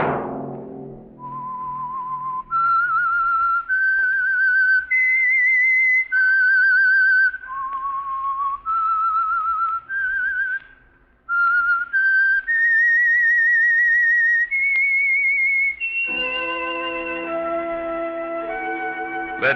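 A clear, loud solo whistle carries the eerie theme tune of The Whistler radio mystery program, a slow melody of sustained pitched notes sliding between steps, followed by an orchestral chord swelling in at the end.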